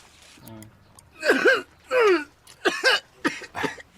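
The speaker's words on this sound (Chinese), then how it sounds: "哎，你老咳嗽什么呀？" Several rough, close coughs and throat-clearing bursts come one after another, loud and raspy, with a brief voice at the start.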